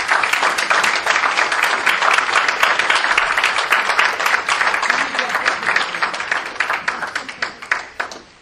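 A crowd at an awards reception applauds an award winner with dense, steady clapping that stays loud and close throughout, then thins and fades toward the end.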